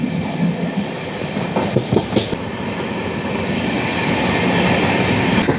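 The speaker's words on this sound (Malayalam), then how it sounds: "കാര്യം ട്രെയിൻ അത്യാവശ്യം സ്പീഡിലായിരിക്കും പോകുന്നത്" Amrita Express running at speed near a small quiet station in Kerala, a steady loud rumble of wheels and carriages with faint clattering rail joints throughout.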